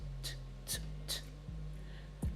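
Crisp programmed hi-hat hits from an FL Studio pattern fall every four steps, spaced evenly over a steady low kick-driven beat, quiet and with no voices.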